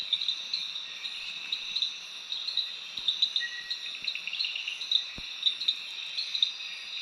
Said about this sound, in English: we also hear a lot of katydids